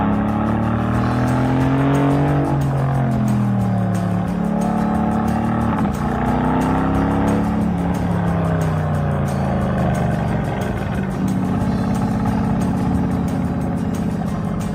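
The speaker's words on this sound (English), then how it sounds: "it's full pipe, especially in this race mode, which is going to put the active exhaust in its loudest," Deep V8 exhaust roar from a 2018 Mercedes-AMG GT S with its active exhaust in race mode, revving up and down continuously at close range, loud and unbroken with no talk over it.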